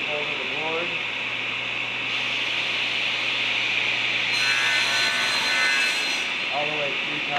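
A table saw runs with a steady whine while cutting through a wooden board, the continuous tone shifting partway through as the blade bites deeper, with a raised pitch near the end.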